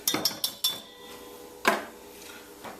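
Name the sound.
mixing sauce in a bowl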